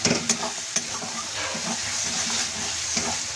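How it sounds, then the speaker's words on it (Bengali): Spice masala with a little sugar frying in a pan while being stirred, giving a steady close sizzle with light scraping strokes and a few sharper clinks, no talking. "সবগুলো মশলা অ্যাড করা হয়ে গেছে, এবার মশলাটা আমি ভালোভাবে ভেজে নেব।"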